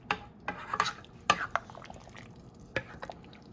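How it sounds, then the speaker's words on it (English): Seco de pollo with freshly added vegetables being stirred in a pot, giving scattered soft scrapes and clinks of a utensil against the pot with light liquid sloshing, fairly quiet and irregular. "And so I will just stir it a little, I think."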